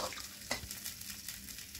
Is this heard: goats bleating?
no